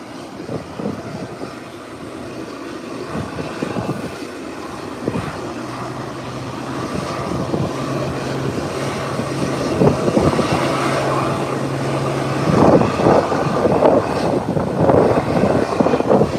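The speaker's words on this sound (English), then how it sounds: "And I can hear a small craft. One of the Cessna is starting at the end there to make an intra-island run." A small Cessna aircraft engine starting at the far end of an airfield for an intra-island flight: a rising, steady engine drone under broad ambient rumble, fairly distant, with no talk.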